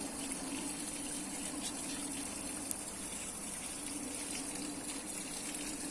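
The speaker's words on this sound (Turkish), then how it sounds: "içine milyar tane buz atılmış gibi olan su akıyor" Ice-cold spring water pours in a steady, unbroken gush close by, a constant broadband rush with no voices over it.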